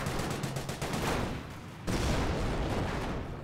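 Video game gunfire in an urban tank battle: rapid bursts of shots crackle at moderate volume, with a brief lull before a louder, denser volley resumes.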